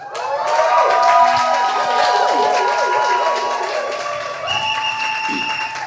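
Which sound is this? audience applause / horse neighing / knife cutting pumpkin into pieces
audience applause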